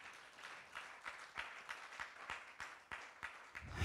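A church congregation claps together in a steady, regular rhythm, faint and somewhat distant, with no other sound standing out.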